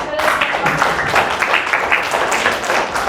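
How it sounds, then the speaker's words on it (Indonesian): A classroom of students applauds a student group after their presentation, a dense, steady patter of many hands clapping that fills the whole span, close and fairly loud. "Kita beri tepuk tangan dulu."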